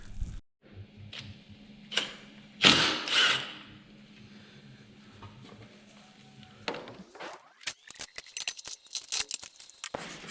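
Shaft being worked out of the gearbox in the hydraulics of a John Deere 3140 tractor: scattered metallic scrapes and clicks, a couple of louder grinding bursts early, then a busy run of sharp ticks and clanks near the end, with no talking.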